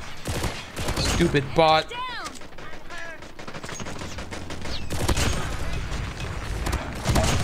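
Rapid bursts of automatic gunfire from a burst SMG crackle in Call of Duty Mobile, arriving in clustered volleys with mechanical clicks between them while someone talks over the action.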